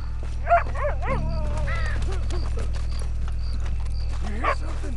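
A dog barks and yips a few times in the video game Red Dead Redemption 2, over a steady low hum and game ambience, with some bird-like chirps mixed in.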